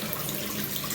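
A washroom water tap runs with a brief, steady rush of flowing water, close and moderately loud, lasting only about a second.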